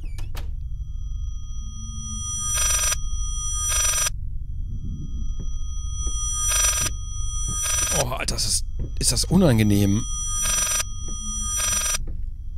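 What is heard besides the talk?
telephone ringing in the video game Layers of Fear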